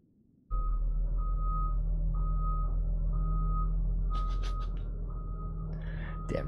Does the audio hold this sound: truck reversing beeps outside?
yes